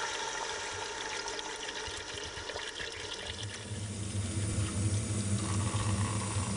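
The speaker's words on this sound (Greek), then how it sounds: "Στη συνέχεια θα ρίξω λίγο νεράκι και θα το αφήσω να σιγοψηθεί." Water poured into a cooking pot holding leeks, celery and beef for a Greek stew, a soft steady trickle that swells into a fuller, louder gush in the second half, with no talking.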